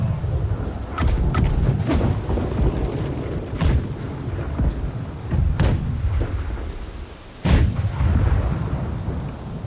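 Ship cannons fire broadside in the naval game Blackwake, several heavy booms spaced a couple of seconds apart over a constant low rumble of wind and sea, with the loudest blast near the end.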